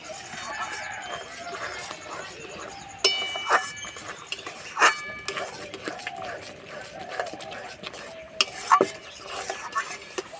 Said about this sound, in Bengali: এইভাবে সবসময় নাড়তে হবে নাহলে তলাতে লেগে যাবে